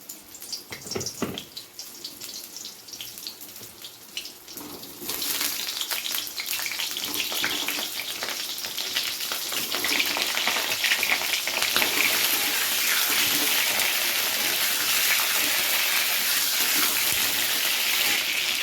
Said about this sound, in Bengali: তেলটা গরম হয়ে গেছে, এবারে দিয়ে দেবো পটলগুলোকে তেলের মধ্যে